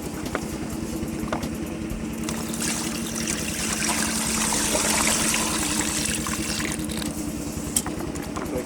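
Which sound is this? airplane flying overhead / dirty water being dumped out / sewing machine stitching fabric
dirty water being dumped out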